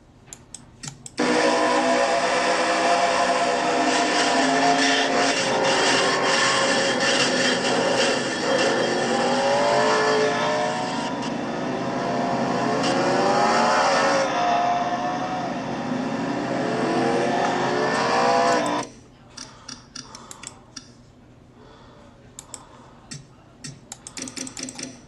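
Onboard ride with a stock car racing in a NASCAR Nationwide Series race, engine roaring loud and continuous with rising and falling pitch through gear changes, then cutting off abruptly to quiet with faint scattered sounds after a crash.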